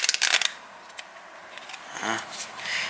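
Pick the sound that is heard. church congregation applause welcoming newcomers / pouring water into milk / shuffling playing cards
shuffling playing cards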